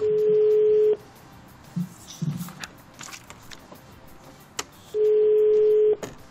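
A telephone rings twice, two steady electronic tones about four seconds apart, with faint clicks and quiet room noise between them.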